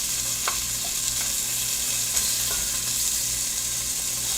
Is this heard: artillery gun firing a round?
no